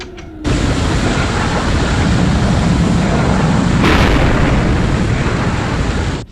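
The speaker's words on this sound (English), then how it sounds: "Firing rocket clamps." Rocket clamps firing on a Thunderbirds craft, a loud sustained broadband roaring blast that starts abruptly, holds steady for several seconds with a brief surge partway, then cuts off.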